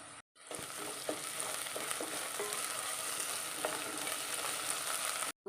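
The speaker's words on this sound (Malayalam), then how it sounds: "ഇനി ചേർക്കുന്നത് ഇഞ്ചി വെളുത്തുള്ളി പേസ്റ്റാണ് ചേർക്കുന്നത്." Ginger garlic paste frying in a pan for a curry gives a steady, bright sizzle with a few soft stirring knocks, close by and with no speech over it.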